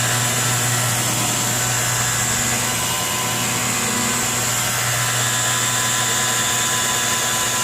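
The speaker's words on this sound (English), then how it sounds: "I always use the slowest setting when I'm buffing" Car buffer polishing a vehicle's paintwork on its slowest speed, a steady motor drone with a constant hum and whine, loud and close, running unbroken with no talking.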